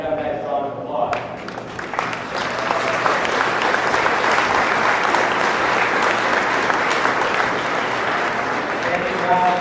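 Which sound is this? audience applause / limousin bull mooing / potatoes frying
audience applause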